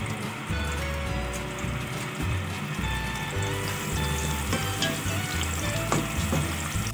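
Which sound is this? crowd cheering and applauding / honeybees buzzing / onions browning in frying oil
onions browning in frying oil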